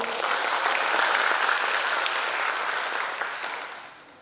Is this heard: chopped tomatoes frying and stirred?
no